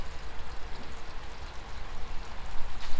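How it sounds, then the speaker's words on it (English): Steady rain falls during a fishing trip, a continuous dense hiss of drops on water and surfaces, even and close, with no voices. "So if this rain lets up, which it's been on and off"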